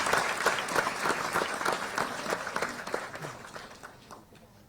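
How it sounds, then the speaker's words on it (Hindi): Hearty audience applause for women dairy farmers at a cooperative dairy event, dense crowd clapping that stays strong for several seconds before gradually tapering off. "एक जोरदार तालियां"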